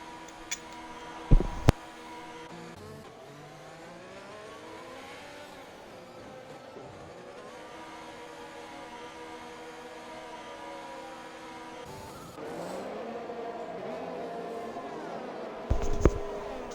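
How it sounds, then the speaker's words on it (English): Race cars in an online racing game drive past and pull into the pits, engines droning and revving at a steady mid distance, with a few sharp bumps and a rising surge near the end. No talking is heard. "Plenty more cars pitting."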